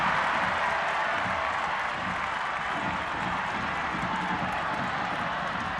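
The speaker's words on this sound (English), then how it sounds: "The crowd imploring Loyal to get moving." Stadium crowd at a San Diego Loyal versus Phoenix Rising soccer match, a steady broad roar of many voices rising and falling slightly throughout, loud and continuous with no break.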